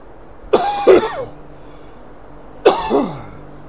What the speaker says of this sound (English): I'm coughing my brains up.